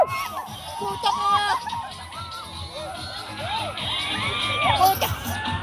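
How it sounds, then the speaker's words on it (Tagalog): Crowd at an LGU color fun run cheering and shouting like a concert audience, with excited whoops and children's yells rising and falling over a steady hubbub of voices, loud and close throughout. "Concert crowd!"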